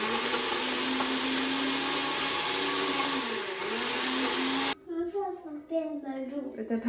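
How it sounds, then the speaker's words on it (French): Kitchen blender mixing breakfast ingredients with milk, a loud continuous motor whine running steadily for several seconds before cutting off abruptly, followed by voices talking. "Donc voilà, je vais mixer."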